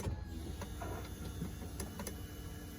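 A low, steady electric motor hum from the fuel pump of a 2004 BMW 330Ci (E46) runs throughout, with a faint mechanical whir and a couple of small clicks near the end.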